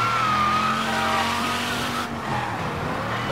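A fast car at a racetrack in Mafia: Definitive Edition, engine droning loudly with a rising whine, then tires squealing in a skid as the car slides through a turn.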